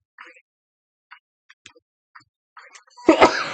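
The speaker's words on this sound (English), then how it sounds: "About to sneeze." A single sharp sneeze bursts out loudly near the end, after a few faint, scattered mouth sounds and murmurs in a quiet room.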